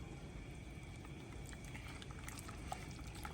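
Russian dressing mixture bubbling as it heats in a pan, a steady low simmering fizz with faint popping throughout, fairly quiet and continuous with no talking.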